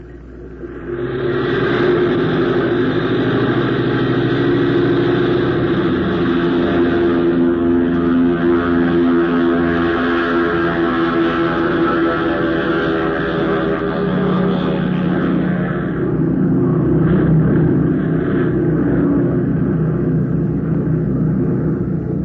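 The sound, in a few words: aircraft engine during takeoff, radio drama sound effect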